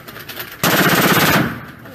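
A burst of rapid, loud automatic machine gun fire rings out at an outdoor shooting range during a Shot Show industry day. It rattles continuously for about a second after a quieter lead-in and then trails off.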